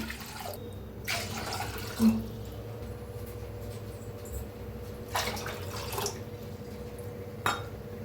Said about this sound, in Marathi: पाणी वतूया, 3 वाट्या पाणी घ्यायचं आहे आपल्याला।